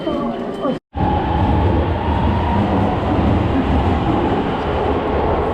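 A driverless Yurikamome metro train in Tokyo rumbles loudly and steadily after a brief cutoff, with rail clatter and a high whine riding over the roar.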